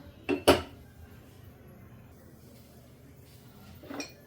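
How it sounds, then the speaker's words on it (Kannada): A cooking pan set down on a kitchen stove gives two quick metallic clanks close by, followed by near silence and a faint later clink. "ಈಗ ಒಂದು ಪ್ಯಾನ್ನ ಇಟ್ಕೊಳ್ತಿದ್ದೀನಿ"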